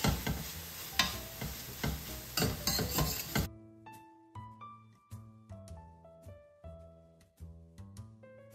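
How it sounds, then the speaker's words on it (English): Mushrooms for coq au vin sizzle and get stirred in a pan, a busy, crackling frying sound with scraping for the first few seconds, then it drops away and soft musical notes take over. "The mushrooms are cooking further, giving out their juices"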